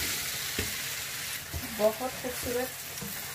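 Tomatoes and black-eyed peas fry in a pan with green chillies, giving a soft continuous sizzle with a few stirring knocks, while a voice speaks briefly over it.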